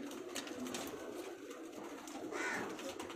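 Faint pigeon cooing drifts in from a loft of fancy pigeons in Multan, soft and intermittent over a hissy background, with no talking.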